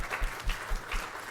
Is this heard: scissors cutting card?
no